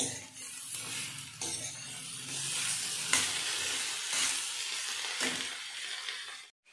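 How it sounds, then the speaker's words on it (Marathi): Green tomatoes sauté in a pan over medium heat: a fairly faint, steady sizzle with occasional stirring strokes and no speech. "टोमॅटो पण छान परतून घेते मी।"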